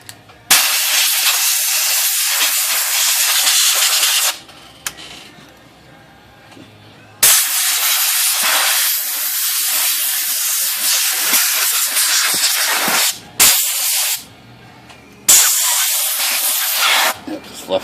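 Compressed air blasts into a vintage typewriter to clear out dust, coming as long loud hissing bursts of several seconds, then shorter ones, with quiet gaps between.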